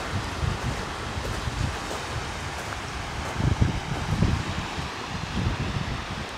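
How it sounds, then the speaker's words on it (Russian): Strong wind buffets the microphone despite a windscreen in a steady, rumbling roar, with heavier gusts thumping low around the middle; no voices. "Целый день сильнейший ветер. Ветрозащита для микрофона практически не помогает."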